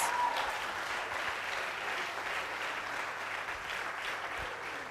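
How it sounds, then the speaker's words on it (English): Steady applause from a large audience at a nursing induction ceremony for a graduating class, a continuous dense patter of clapping heard from a distance at low volume. "another round of applause"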